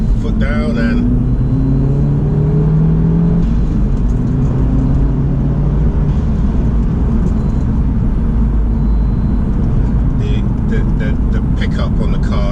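A car fitted with a RaceChip GTS tune accelerates hard, its engine note climbing steeply over the first few seconds before settling into a steady, loud roar of road and wind noise from inside the cabin.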